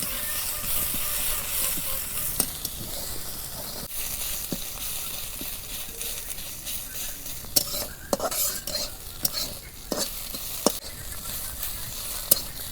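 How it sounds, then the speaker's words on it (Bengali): Sliced onions fry in oil for beresta, the crisp browned onion topping for egg biryani, with a steady close sizzle broken by frequent sharp clinks and scrapes of stirring. "পেঁয়াজের বেরেস্তা ভাজতে অল্প টাইম লাগে, তো লাহে জাল দিয়ে নেবো আর বাদাম কালার বানা নেব।"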